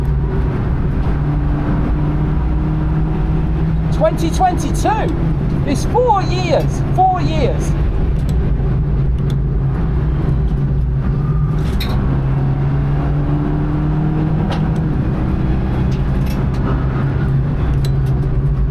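A BMW G42 race car pushes around the Nürburgring Nordschleife, its steady loud engine drone and road rumble filling the cabin throughout while the driver talks over it.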